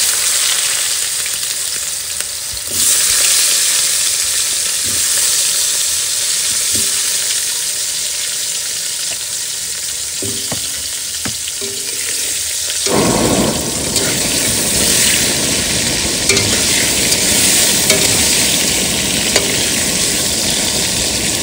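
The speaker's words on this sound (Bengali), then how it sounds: "এবার তরকারি বসাই দেবো। প্রথমে আলুটা ভেজে নেব।" Potatoes fry in a pan with a continuous loud sizzle and hiss, swelling brighter and stronger partway through, with occasional scraping stirs.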